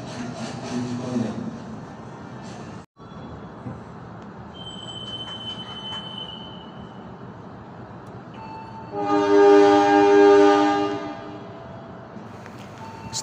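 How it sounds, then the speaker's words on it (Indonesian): The KA Bengawan passenger train departs Kroya station at night, rumbling steadily nearby, with a long loud horn blast partway through and faint squeals over the rolling noise. "KA Bengawan kembali diberangkatkan dari stasiun Kroya Kabupaten Cilacap jam 23:43"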